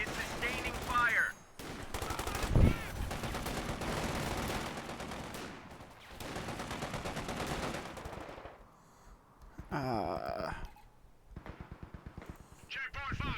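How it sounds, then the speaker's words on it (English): Machine gun fire rattles in Company of Heroes 2's Ardennes Assault, bursts of rapid shots mixed with game radio voices and battlefield noise, moderately loud and intermittent. "Fighting position machine gun is in place. One of our fighting positions is sustaining fire."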